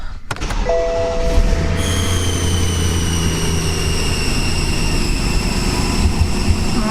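A BMW E9x M3 engine cranks and catches on first startup after throttle actuator work, then idles with a steady rumble while a high, thin squeal rings on continuously above it.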